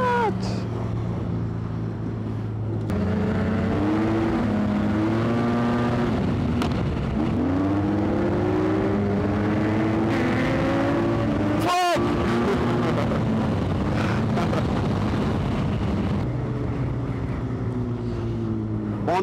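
A Yamaha T-Max scooter runs at full throttle, its engine drone loud and close as the pitch climbs, drops at a shift and winds back up over wind rush, briefly broken by a sharp dropout.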